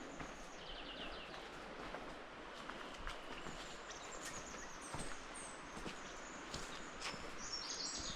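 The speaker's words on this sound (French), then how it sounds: "on entend les chants des oiseaux" Scattered bird calls and chirps ring out over a steady, noisy tropical forest ambience in Madagascar, with several brief bright whistles near the end.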